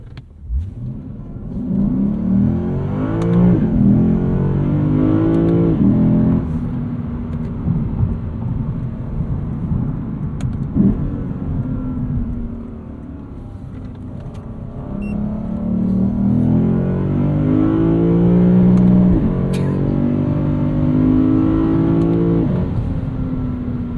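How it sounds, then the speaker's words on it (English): The 472 hp V8 of a 2024 Lexus IS 500 sport sedan revs up and pulls hard in manual mode, its deep rumble rising through gear changes, falling back, then climbing again. "I love V8s. Yes, it makes such a cool noise."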